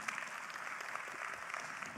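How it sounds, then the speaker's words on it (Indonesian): Audience applause for River International at an Indonesian seminar, a steady, fairly faint wash of many hands clapping with no voices over it. "Tepuk tangan buat River International."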